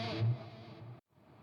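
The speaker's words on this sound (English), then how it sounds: "It's got the swell reverb." A Leo Jaymz Silverbox multi-effects pedal set to swell reverb: a guitar note that blooms into a wide, washy tail, then cuts off abruptly to near silence before a faint tail resumes.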